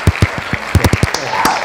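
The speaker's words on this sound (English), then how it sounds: "Let's do a round of applause." A short, sparse round of applause captured through a cheap microphone: a few loud, close hand claps in a quick, uneven burst lasting under two seconds, with some background noise.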